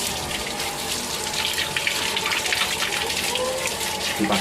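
Tap water runs in a steady, continuous gush over a kris dagger being washed, close and moderately loud, with faint splashing as it hits the sink.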